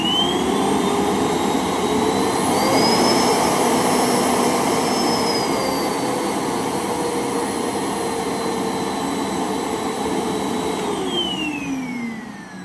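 A Morphy Richards Storm 2000W vacuum cleaner runs on its low setting, a steady loud motor roar with a whining high tone that rises slightly then falls away near the end, heard close and alone.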